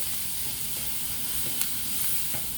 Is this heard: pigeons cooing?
no